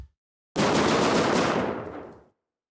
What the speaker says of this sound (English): Some gunshots with some pitch envelope stuff going on them to give it a bit of rising